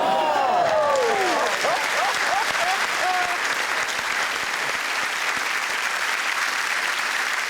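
Studio audience on a TV comedy panel show breaks into loud, sustained applause that fills the whole stretch evenly, with voices shouting over the start before the clapping settles into a steady roar.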